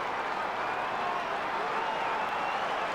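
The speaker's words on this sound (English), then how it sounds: "the crowd building up in the last few minutes" A football stadium crowd murmurs and roars in a steady, distant wash before an Australian rules cup semi-final between the Bulldogs and Carlton, with no clear individual voices standing out.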